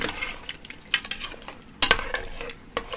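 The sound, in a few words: stirring with a beater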